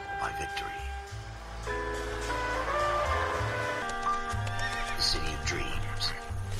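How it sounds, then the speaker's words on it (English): A horse whinnies loudly with clip-clopping hooves in the video game L.A. Noire, the neighs rising and falling over several seconds amid in-game ambience. "Y el caballo muy realista."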